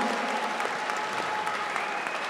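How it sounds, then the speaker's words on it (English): Crowd applause following a fight at a Dragon House fight event, a dense, steady clapping that fills the room evenly from start to finish. "How about a big round of applause for these two fighters"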